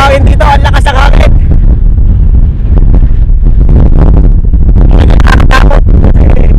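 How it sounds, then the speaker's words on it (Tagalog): Loud, roaring wind buffeting the microphone nonstop at a cliff edge about 300 feet up in Riyadh, Saudi Arabia, with a voice speaking through the gusts at the start and end. "habang nakasakangin dito, ang lakas ng hangin"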